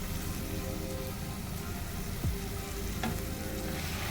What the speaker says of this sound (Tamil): கரைச்சி வச்சுருந்தேன் புளி மசாலா எல்லாத்தையும் கலந்து வச்சுருந்தோம் இல்லையா அதை தூக்கி இதில் ஊற்றிடலாம்